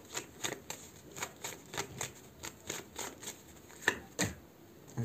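Tarot cards shuffled and drawn in a steady series of crisp riffling slaps, close and fairly quiet, with a couple of sharper snaps near the end and no talking.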